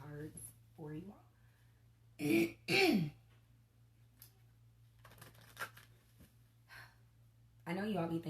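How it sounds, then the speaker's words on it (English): Someone clears their throat during a quiet tarot reading. It comes as two sharp, close-up rasps near the middle, with soft murmured speech and breathing in an otherwise hushed room. "I clear my throat so much during these readings"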